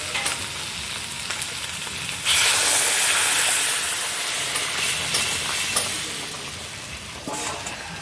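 Hot water poured into a pan of braised duck meat sets off a loud, sudden burst of sizzling and hissing steam that keeps crackling steadily and then eases slightly, with no talking.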